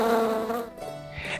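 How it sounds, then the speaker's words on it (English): Bees buzz in a close, dense swarm, a short burst of insistent droning that shifts in pitch and thins out partway through. "some bees came and started stinging him on the face."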